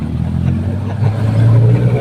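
Motorized tricycle taxi engine running during a ride, a low, rough drone that grows louder and steadier toward the end, with talk over it.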